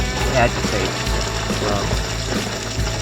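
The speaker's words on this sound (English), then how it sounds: "the pump was still pulling water out faster" A battery-powered bilge pump pushes water out of a boat, a steady close churning and splashing of liquid with a low motor hum underneath, continuing evenly.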